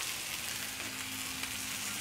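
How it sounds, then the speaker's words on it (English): Cabbage fries with vegetables in a pan for a noodle dish as a spatula stirs it, giving a steady close hiss of sizzling with faint scraping underneath. "Take my spatula and stir in the cabbage so that it can cook together with the vegetables"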